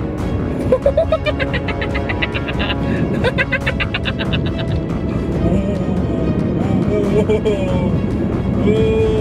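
A Nissan X-Trail Hybrid drives over a bumpy, rocky road, with a loud continuous rumble of tyres and suspension, rattling thumps, and a stretch of rapid pulsing clatter early on, while someone talks over it.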